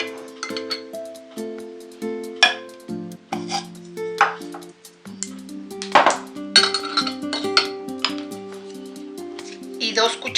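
Spoonfuls of mayonnaise and sour cream are scooped into a blender jar, giving soft clinks and taps of a spoon against glass and wet squishy plops, close up, among light kitchen clatter while someone talks.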